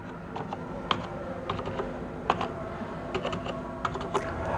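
Rapid typing on a computer keyboard while a password is entered, a steady stream of light plastic key clicks with a few louder taps, close and alone.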